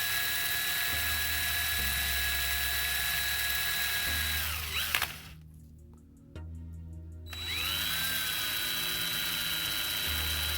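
A power drill bores into a die casting with a steady, whining hum, then dips and stutters briefly while the bit works deeper before the whine rises back to a constant tone.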